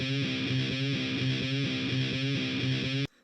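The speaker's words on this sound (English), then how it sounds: "I have two guitar tracks here, a 57 and a 421, and it's two microphones on the same performance." Electric guitar recorded through two microphones, a 57 and a 421, on the same performance, playing a steady distorted rhythm riff of repeated chugging chords for about three seconds, then stopping abruptly.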